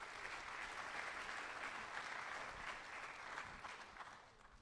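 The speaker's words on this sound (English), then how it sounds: "Can everyone give a round of applause to welcome Haley to the stage?" Audience at a high school agricultural program spring banquet applauding to welcome a student to the stage, a full, steady burst of many hands clapping that tapers off at the end.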